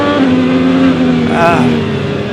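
IndyCar race car engine onboard with Graham Rahal, a steady loud droning whine with a pitch sweep midway as the car works through traffic, close and continuous under a commentator's voice.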